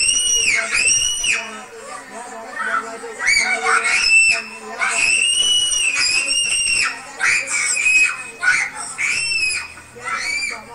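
A girl screams repeatedly in a played clip about a disturbing school incident, with high sustained shrieks in several bursts, loud and close, broken by short pauses over about ten seconds.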